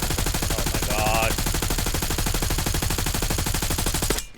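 Continuous rapid gunfire in a battle royale video game, a steady machine-gun rattle running loud and unbroken for about four seconds before cutting off.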